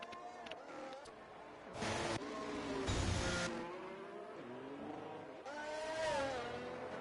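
F1 race cars accelerate out of the pit lane in a racing video game, engines revving with rising and falling pitch and a couple of louder whooshing bursts as cars pass close.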